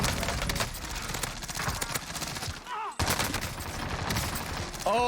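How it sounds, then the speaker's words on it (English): Dense gunfire in the video game Warzone, sustained rapid shots and impacts filling the whole stretch with only a brief dip midway, loud and close. "So I'm gonna shoot at this first guy"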